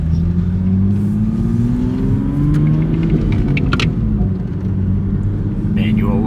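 A Toyota A90 Supra with a single-piece driveshaft drives slowly around a parking lot, its engine humming with smooth rising and falling pitch, fairly close and steady, with people talking in the cabin.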